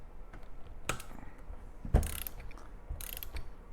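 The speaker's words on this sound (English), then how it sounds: "Once it's set, take your all 16ths and you tighten it." A torque wrench set to 25 foot-pounds tightens the starter nut on a Purdue Grand Prix kart with a wet clutch, giving a few faint, separate mechanical clicks over a quiet shop background.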